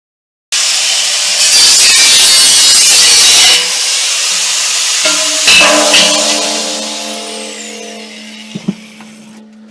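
Power tool cutting a chimney hole into the steel wall of a propane gas cylinder, loud and close. A harsh grinding whine runs steadily, then gives way to ringing metallic resonance that fades out, with no voices.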